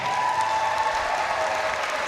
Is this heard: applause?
yes